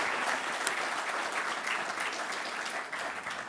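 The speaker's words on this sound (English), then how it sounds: "give Rob a round of applause" An audience at an evening talk applauds a guest speaker with steady, dense clapping that holds at an even level throughout and fades slightly toward the end.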